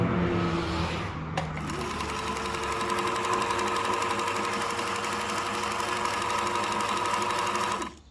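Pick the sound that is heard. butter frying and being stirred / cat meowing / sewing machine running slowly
sewing machine running slowly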